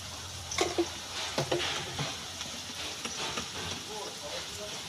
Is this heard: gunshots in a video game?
no